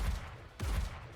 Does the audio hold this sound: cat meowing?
no